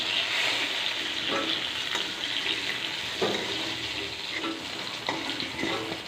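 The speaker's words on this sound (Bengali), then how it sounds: "দেখুন বেগুনগুলো কিন্তু লাল লাল করে ভাজা হয়ে গেছে" Eggplant pieces frying in oil in a pan, giving a steady close sizzle with light scraping and stirring knocks, no voices.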